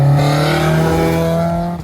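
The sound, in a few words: loud engine inside a K-swapped NC Miata while driving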